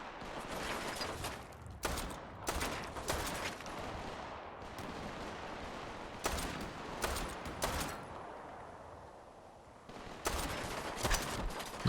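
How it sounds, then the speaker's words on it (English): Enemy gunfire in Fallout 4, repeated sharp volleys of shots in irregular bursts, some rapid and clustered, others single cracks, loud and close against a lower ambient rumble between them. "Somebody's shooting at me from somewhere."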